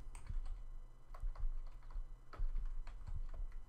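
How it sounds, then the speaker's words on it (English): Computer keyboard keys are typed in a short run of irregular clicks while entering a place name in a text box, close and fairly quiet with no talking. "And type in Portland, Oregon."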